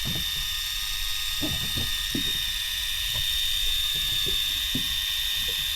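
A fishing reel being wound in slowly on a boat during deep-sea fishing, a soft clicking ratchet turning in uneven bursts against a constant high engine or electrical whine.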